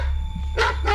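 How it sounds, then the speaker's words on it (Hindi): Several dogs bark together outside at night, part of a spooky cottage story, with two short bursts of barking close by and a steady low hum underneath. "बाहर अचानक से बहुत सारे कुत्तों के भौंकने का शोर सुनाई देता है"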